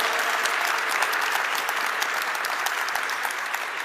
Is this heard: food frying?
no